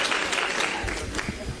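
Applause at a funeral service: a dense, steady wash of clapping from a gathered crowd, sustained at an even level throughout, with no talk over it.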